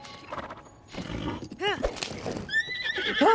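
A horse whinnies loudly in The Legend of Zelda: Tears of the Kingdom, with clip-clopping hooves and other game sounds while someone talks over it.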